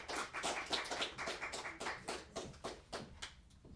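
Applause from a small audience at an evening conversation and karaoke party, a sparse patter of individual claps fading out over a few seconds.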